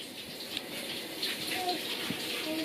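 Shower water running steadily in a home bathroom, a soft continuous hiss that stays faint and even throughout, with no talking.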